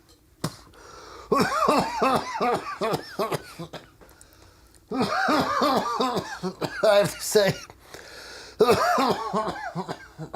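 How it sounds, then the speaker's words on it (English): Several harsh coughs break out among people talking and laughing nearby, loud and close, scattered across the conversation. "Just getting over being sick and you're going to cough on me."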